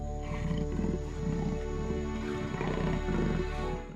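A jaguar, roughly 2.5 metres long, lies on the ground growling, a low continuous rumbling roar that swells and eases across the stretch, close and steady beneath a constant background hum.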